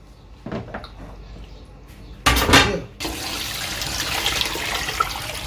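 Water poured into a pressure cooker pot while cooking for Eid: a loud burst of splashing liquid, then a steady rushing pour that continues, following a few light knocks and handling sounds.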